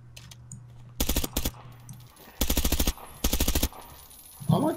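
Weapon reload clicks followed by three sharp bursts of automatic gunfire in the video game Zero Hour, loud and close, separated by short pauses, with a low hum underneath.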